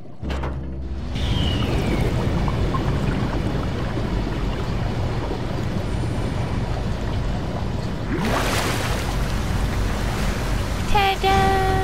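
Water surges and rushes steadily through pipes in the video game SOMA after valves are opened and a pump is switched on, a loud, continuous broadband flow that swells again near the end alongside brief mechanical tones.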